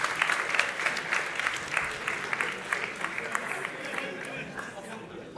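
A comedy-show audience claps for a volunteer called up on stage, a lively round of applause with some chatter mixed in, fading slightly toward the end.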